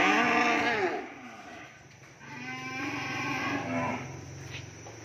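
Cattle lowing at a cattle farm, one loud nearby moo followed by longer, deeper moos from the herd, with faint background noise and no clear speech.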